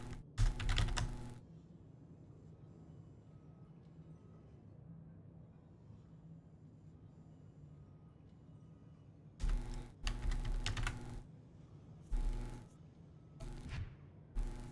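Computer keyboard typing, short bursts of fast keystrokes at the start and again near the end, close and clear over a quiet room hum.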